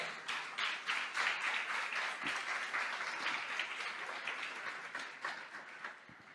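A church congregation applauds together, a sustained wash of many hands clapping that rises quickly and then slowly tapers, heard at moderate distance without speech.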